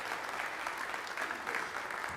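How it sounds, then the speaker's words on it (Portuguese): Brief round of clapping from a church congregation, a dense, continuous patter of many hands filling the room. "Dá uma salva de palmas para o Senhor Jesus."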